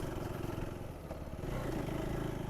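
A KTM ADV 390 motorcycle rides off-road with a steady, close engine drone and a low, throbbing exhaust note. The engine holds even and gets slightly busier toward the end, with no talking.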